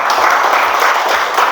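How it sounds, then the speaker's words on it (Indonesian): Steady applause from a class, many hands clapping continuously at a moderate, even level throughout. "Yang semangat tepuk tangan"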